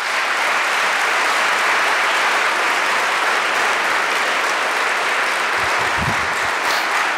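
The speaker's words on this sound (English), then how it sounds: "if you could give them a round of applause" Sustained applause from a large audience at a city state-of-the-city address, a continuous wash of clapping at constant loudness, with a few brief low thumps near the end.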